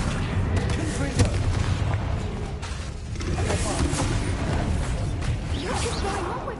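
Confringo spell blasts in the video game Hogwarts Legacy, booming bursts and whooshes layered in a busy, steady wash of battle noise with no clear gaps.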